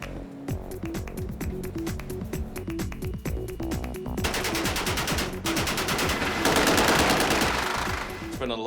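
Sustained H&K UMP machine gun fire during a freeway chase from The Matrix, with rapid bursts of gunshots under engine roar and tire noise that grows denser and louder toward the end.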